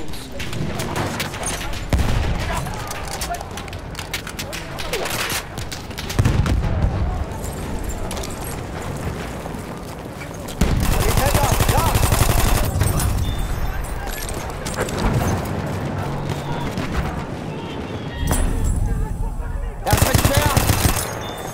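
Battlefield 1 gunfire in a video game battle: loud, sustained bursts of automatic fire and rapid shots pile up in dense volleys, broken by brief lulls and heavier booming blasts, with faint voices beneath.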